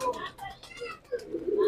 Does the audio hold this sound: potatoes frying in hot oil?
no